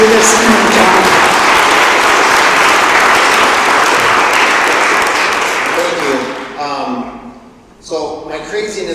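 A town hall meeting crowd at a city council gathering breaks into loud, sustained applause for several seconds, then it fades as a person begins speaking.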